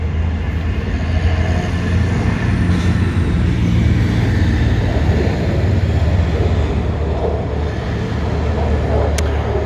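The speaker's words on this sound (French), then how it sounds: "Voilà les amis, le petit avion là qui vient me casser les cacahuètes." A small airplane drones overhead outdoors, a steady loud broadband engine roar that holds throughout with little change in level.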